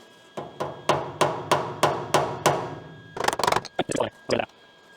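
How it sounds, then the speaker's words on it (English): Hammer-off-dolly blows ring out on the steel body panel of a VW Bus during rust repair, a steady run of about eight evenly spaced strikes followed by a quicker, irregular flurry of taps, close and loud. "This is hammer off dolly action."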